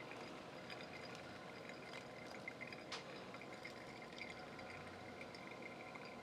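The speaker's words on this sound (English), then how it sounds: "We're going to just add a little bit more water." Water trickling and splashing steadily as a little more is poured onto coffee grounds for homemade cold brew, close and quiet, with no voices.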